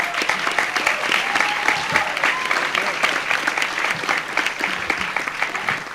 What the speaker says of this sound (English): Like a massive round of applause.